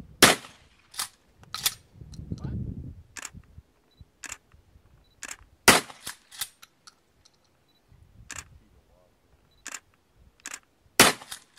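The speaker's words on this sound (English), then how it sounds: "The purpose of today's gunfire test is to generate sound levels for the sound engineers to record" Firearm gunfire during an outdoor sound test at Puuanahulu: a series of sharp, loud single shots spaced irregularly over several seconds, with a brief low rumble between early shots and quiet gaps.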